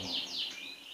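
A canary at a breeding setup chirps in a few quick sweeping notes, faint and slightly distant, repeating in short bursts over a quiet background.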